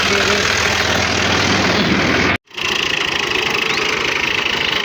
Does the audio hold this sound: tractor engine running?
yes